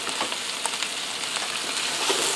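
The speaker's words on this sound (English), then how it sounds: "I'm going to allow this to fry in here, stirring it occasionally for about 12 to 15 minutes" Sliced, precooked kielbasa fries in a skillet with vegetables for a Cajun shrimp sausage dish. A dense, steady sizzle runs close and loud throughout, with a few sharper pops and a faint stir.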